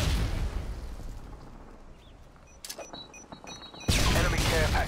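A Predator missile strike in a multiplayer shooter game. After a rumbling start and a quieter stretch with electronic beeps, a sudden, loud, close blast lands near the end, and a voice is heard in the mix.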